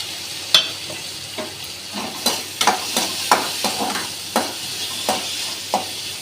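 Small onions and tomato sautéing in a pan for drumstick leaf soup, a steady close sizzle punctuated by a dozen or so distinct spatula knocks and scrapes against the pan, with no speech.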